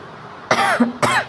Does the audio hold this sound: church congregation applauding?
no